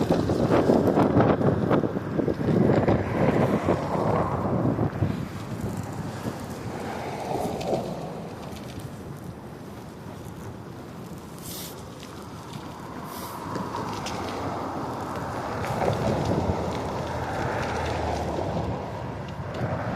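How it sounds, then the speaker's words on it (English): Wind roaring across a microphone while cycling into a headwind in downtown Toronto, a loud rushing buffet that eases in the middle and builds again, with no speech. "me riding against the wind here"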